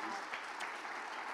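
Audience applauding an actress at a live theatre event, a steady dense wash of clapping at moderate level, heard alone without talk.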